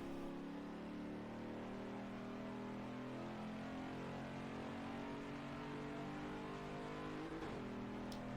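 A Ford Mustang Mach 1 pulling out of a corner on the Watkins Glen race track, its engine a steady, even drone under throttle, heard faintly from inside the car.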